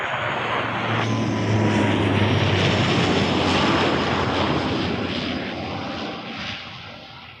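An Air Canada Q400 turboprop lands at Toronto Pearson, its steady loud propeller and engine roar sustained for several seconds and slowly fading toward the end.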